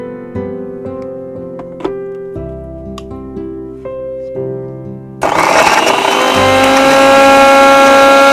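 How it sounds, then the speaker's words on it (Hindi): A blender whirs loudly as it blends mango with lemon juice, starting abruptly partway through after quieter kitchen sounds and then holding a steady, dense motor roar to the end. "ब्लेंड कर लेंगे।"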